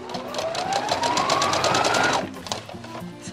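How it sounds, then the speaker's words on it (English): A close, loud sewing machine stitches around a curve on an apron, its motor pitch rising steadily as it runs, then slowing as the stitching eases off. "So I'm just going to slow the machine down so I can get this accurately around that curve."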